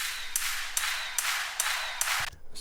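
A Vengeance sample-pack crowd clap with its low end filtered out, giving five evenly spaced, bright, crisp clap hits in a steady rhythm, each with a short noisy tail, then a quick stop.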